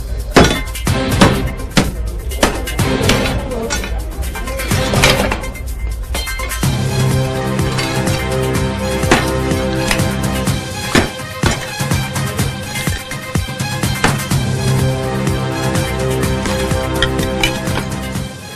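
A wall that king cobras live in is torn down with hammering, sending out repeated sharp, loud blows and knocks at an irregular pace, with crumbling, clattering debris noise running through.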